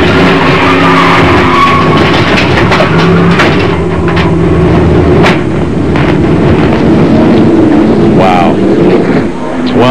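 Heard from inside a 1997 NASCAR Busch stock car during a crash at Talladega, a loud engine roar and rushing wind give way to harsh skidding and scraping, with radio-style voices faintly mixed in.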